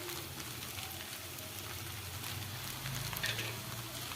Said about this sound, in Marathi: आणि पुन्हा चांगलं परतून करून मिक्स करून घेते